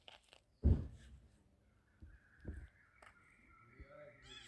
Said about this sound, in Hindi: चिड़ियों की चहचहाट बिल्कुल सुन सकते हैं आप लोग यहाँ